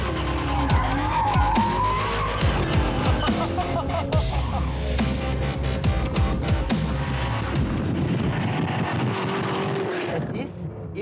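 A G-Power tuned Toyota Supra with 750 horsepower and rear-wheel drive accelerates hard on a test track, tyres skidding and squealing through long slides, loud and near, while a voice talks over it before the noise fades at the end.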